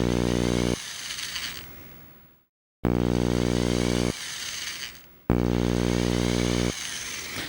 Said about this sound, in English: It's kind of half-assed drilling and mostly melting